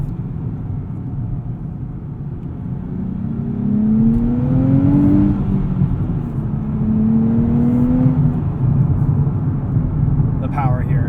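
A turbocharged 2023 Nissan Z pulls hard under acceleration, heard from inside the car. The engine drone rises and swells in two climbing sweeps, with a faint whir over it and a steady low rumble throughout.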